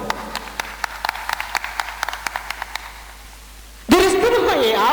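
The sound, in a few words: applause for the winning football club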